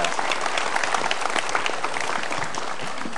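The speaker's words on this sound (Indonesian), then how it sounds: "Sekali lagi kita berikan tepuk tangan untuk Mas Vicky" A studio audience on an Indonesian TV talk show claps steadily, a dense, even wash of applause from many hands throughout.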